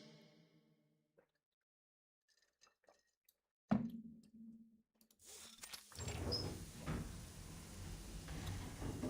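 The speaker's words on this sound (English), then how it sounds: "The airtight door opens with a hiss" An airtight door in the video game Reverse 1999 opens with a sharp mechanical clunk and a sustained hiss, then a broad rushing release of air that swells and stays loud.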